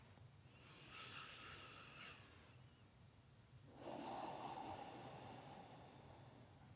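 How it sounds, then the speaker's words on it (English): Slow deep breaths during a morning yoga stretching routine, two long airy inhale-exhale swells, soft and close with quiet pauses between. "Take two more deep breaths."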